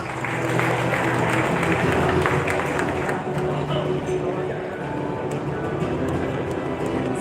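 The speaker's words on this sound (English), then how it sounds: "Please kindly be seated and give a round of applause." An audience at a global summit of university leaders claps in steady, sustained applause filling a large hall, loud and even throughout with no speech over it.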